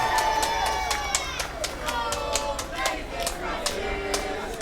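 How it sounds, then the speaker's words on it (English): Wrestling crowd at a Bexleyheath show singing a chant together, a dense sustained wash of many voices with rhythmic claps and stamps cutting through, loud and close throughout. "The Bexleyheath crowd know exactly what song they want to be singing."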